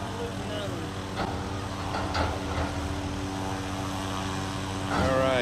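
A helicopter lands nearby at Chimney Rock, North Carolina, its rotor and engine a loud continuous roar with rhythmic chopping pulses, swelling toward the end, while people talk over it.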